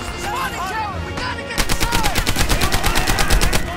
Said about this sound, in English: the gunfire and explosions are a little underwhelming in Airborne.